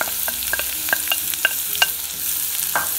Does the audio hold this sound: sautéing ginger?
yes